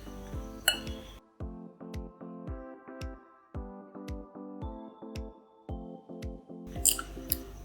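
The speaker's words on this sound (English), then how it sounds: "just use your whisk to combine everything together" A whisk mixes flour, baking powder and salt in a bowl, producing bright, ringing metallic clinks in a quick, steady rhythm, close and fairly quiet.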